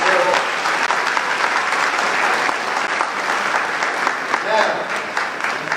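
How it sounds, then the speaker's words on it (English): A graduation audience at Columbus International gives the teachers a loud, sustained round of applause. Dense, steady clapping fills the room with faint crowd voices mixed in. "I want you to give our teachers a round of applause"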